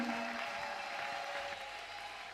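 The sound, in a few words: crowd cheering and applauding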